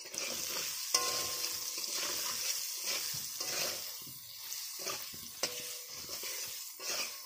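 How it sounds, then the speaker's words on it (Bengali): Onions and turmeric sizzle steadily in hot oil for a Bengali chitol fish curry, with a spoon stirring and occasional clinks against the pan, close up. "ধুনীয়াকৈ এইখিনি আমি ভাজি ল'ম এতিয়া ধুনীয়াকৈ সামখাকৈ"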